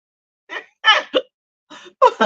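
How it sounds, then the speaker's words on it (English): A person hiccups several times in short, voiced bursts spaced unevenly over a couple of seconds, close and indoors. "I got the hiccups"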